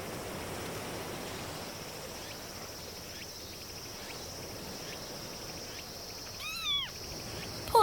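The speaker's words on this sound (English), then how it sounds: "Poor pussy, why are you meowing?" A cat meows once, a short plaintive cry over a steady night backdrop of chirping crickets and insects in an anime scene.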